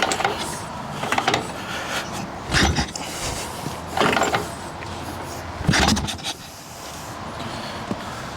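A Girder Ironhead chopper motorcycle is kicked over again and again, each stroke a short thumping mechanical clatter with a rattle, spaced a second or two apart at close range, and the engine never catches.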